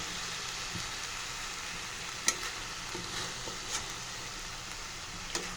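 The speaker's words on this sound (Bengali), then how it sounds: "এখন আমি প্রায় 3-4 মিনিট ধরে এটা একটু রান্না করব, তেলে ভেজে নিব।" Malabar spinach frying in oil in a pan makes a soft, continuous sizzle, with light stirring scrapes and occasional small taps against the pan.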